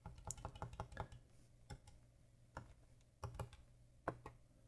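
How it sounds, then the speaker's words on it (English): Fingers tapping keys on a TI-74 calculator keyboard, a quick run of close, light plastic clicks followed by sparser, hesitant taps and short bursts, over a low steady background hum. "I could edit out this fumbling me trying to type it in here on camera"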